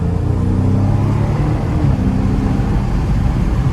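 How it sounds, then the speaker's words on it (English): A Dodge Scat Pack on light throttle, its engine giving a loud, steady, deep drone heard from inside the cabin for the whole stretch, with no one talking. "I'm just lightly tapping on the gas"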